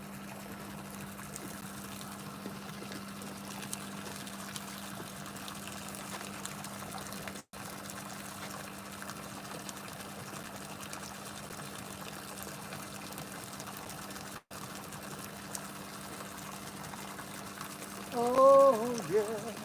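Running water, a steady, faint trickle and flow holding through the whole stretch with a low hum underneath, and a brief voice near the end.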